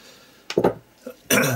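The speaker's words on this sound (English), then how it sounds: "Just give each one a shake up." Several IndigoBlu Vivid ink spray bottles with mica inside are shaken one after another, giving a couple of short, sharp rattling bursts, a brief pause, then a longer, louder shaking rattle close by.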